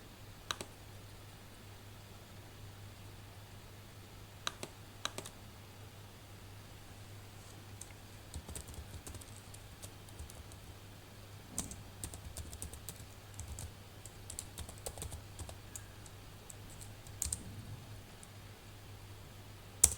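Soft, irregular keystrokes on a computer keyboard as code is typed, quiet and close with scattered louder clicks over a low background hum, no talking.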